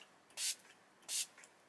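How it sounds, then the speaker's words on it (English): Two short hissing bursts of Urban Decay All Nighter setting spray misted onto skin, close and crisp, with a brief quiet pause between them. "give the skin a spray with the Urban Decay All Nighter"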